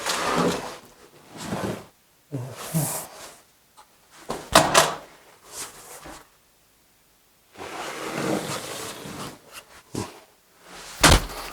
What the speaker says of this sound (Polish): Ale Fuchs prawie zatrzasnął drzwi, a kartę zostawiłbym tutaj.